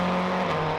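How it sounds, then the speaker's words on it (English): A TVR Cerbera race car overtaking a rival GTO car at Brands Hatch Indy circuit, its engine a loud, steady close roar sustained through the whole moment with no one speaking. "Cracking manoeuvre by the TVR Cervera past the GTO"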